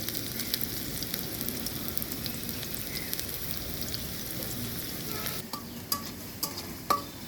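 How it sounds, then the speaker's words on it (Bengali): Onions and green chillies fry in a wok, a steady close sizzle and crackle running throughout, with a few sharper scraping clicks from stirring near the end. "কড়াইয়ে পেঁয়াজ মরিচ দিয়ে দিছি এটা লাল লাল করে ভেজে দেব"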